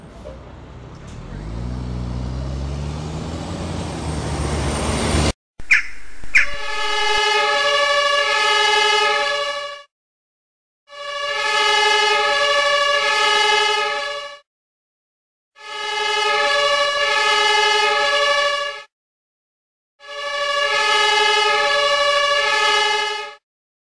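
A Playmobil toy fire engine pulls out with its electronic siren, a rumbling start giving way to four loud, evenly spaced two-tone siren blasts separated by short silences.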